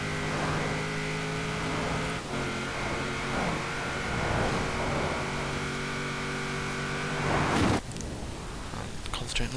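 A 2010 Nissan 370Z engine in the Forza Horizon 4 racing game drones steadily under hard acceleration at high speed, a dense, continuous tone with a brief dip and a sharp burst near the end, with a voice talking over it.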